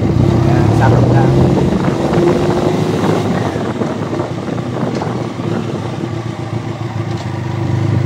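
Leoncino 500cc big bike on a slow test ride, its engine droning steadily at low speed with heavy wind buffeting the microphone throughout.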